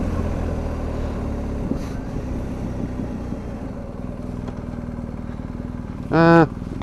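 A BMW R1250 GS Adventure TE Triple Black Edition rumbles at a steady engine drone with wind noise while being ridden, and a short sharp whine or horn-like blip rises near the end.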